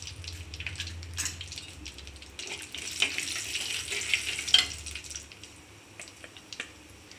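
Mustard seeds, urad dal and chana dal sizzle and crackle in hot oil in a pan for ennai kathirikkai kuzhambu, a steady frying hiss with scattered pops and a few stirring scrapes, close and moderately loud with no talk.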